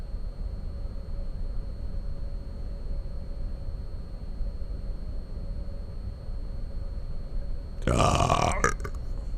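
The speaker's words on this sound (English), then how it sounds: "Excuse me for belching." A man belches once, loud and close, a short raspy burst near the end after a long stretch of steady background hiss.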